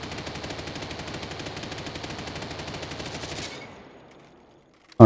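Rapid automatic gunfire from a weapon in the shooter game Off The Grid, a steady loud burst of evenly spaced shots lasting several seconds, then cutting off and fading away.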